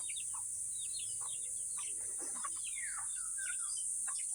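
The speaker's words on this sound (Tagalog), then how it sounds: "Ang daming manok guys." Chickens cluck and birds chirp faintly in scattered bursts, set against a steady high insect drone filling the background.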